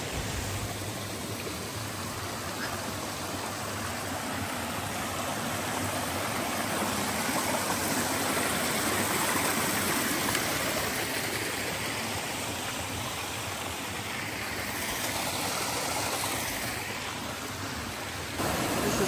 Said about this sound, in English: This is part of our second water crossing.